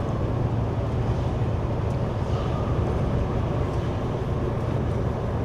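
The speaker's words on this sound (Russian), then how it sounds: "Прокачу вас по непогоде." Car driving slowly through strong wind and sleet in Novosibirsk region, a steady low engine and road rumble with a broad wash of wind noise, continuous and close, without talk.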